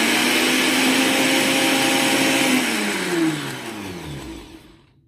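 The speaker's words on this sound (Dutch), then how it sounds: "In de blender. Daar gaan we." A kitchen blender whirs loudly while blending sea moss with half a lime, a steady high-pitched motor roar that winds down in pitch over the last seconds and stops abruptly, with no voices.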